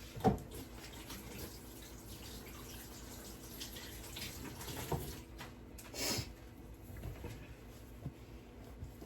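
Water runs from a kitchen tap as hands are washed under it, a soft steady stream with a few splashes and small knocks, moderately quiet and close.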